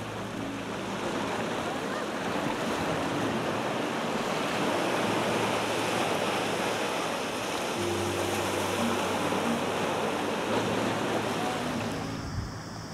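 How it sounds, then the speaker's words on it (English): Mediterranean sea water ebbs and flows against rocks on the coast of Moraira, Spain, a steady loud wash of surf and churning water with wind rumble, continuous and close. "enjoy the water as it ebbs and flows against the rocks"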